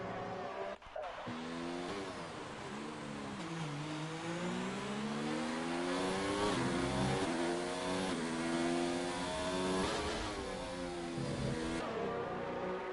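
A Formula racing car in a video game screams through a hot lap on medium tyres at the Canadian GP, its engine rising and falling steadily through gear changes with brief tyre squeal, loud and continuous.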